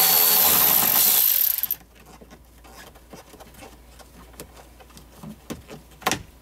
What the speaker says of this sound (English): let me undo this bolt here first